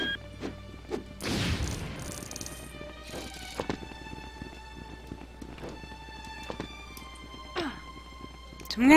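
Glass shatters in the video game LEGO Indiana Jones: one bright, noisy crash early on, set among clattering game effects, tonal chimes and scattered hits that carry on to the end.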